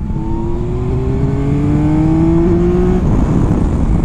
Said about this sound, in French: il monte très facilement en régime, il est plaisant, il est fun, il rugit